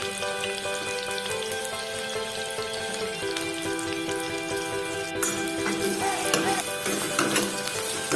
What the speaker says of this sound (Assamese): তেলটো গৰম হোৱাৰ পিছত আমি ইয়াত পিঁয়াজখিনি দি দিছোঁ।